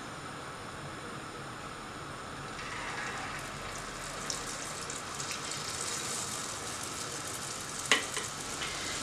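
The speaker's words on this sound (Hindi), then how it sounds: "तो हमने एक फ्राई करके तेल को चेक कर लिया है, इसी तरह हम सारे डाल देंगे।" Batter dumplings frying in hot oil give a soft, steady sizzle that swells into a louder bubbling hiss as more batter is added. A sharp clink sounds near the end, and no one speaks.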